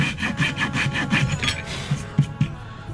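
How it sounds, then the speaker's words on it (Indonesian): A hand saw cuts fret slots in the wooden fingerboard of a bass guitar neck, giving a close, steady back-and-forth rasp with short rhythmic strokes. No one speaks. "kita gergaji satu persatu fingerboardnya"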